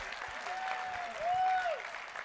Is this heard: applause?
yes